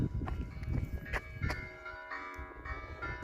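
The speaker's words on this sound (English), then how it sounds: "Bells are loud." Church bells ringing along a Camino Francés trail between Hontanas and Boadilla del Camino in Spain, several sustained ringing tones with a few sharp strikes, heard at moderate distance over low outdoor rumble.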